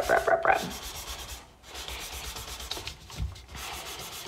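A finger rubs pencil drawing on paper to blend the shading, giving soft, close, short scrubbing strokes that start brisk and then continue as a quieter, steady friction with no talk.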